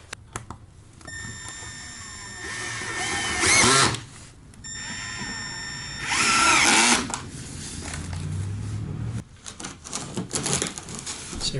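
A power drill drives screws into snowmobile trailer ski guides in two loud whirring bursts a few seconds apart, with quieter handling noises and clatter in between.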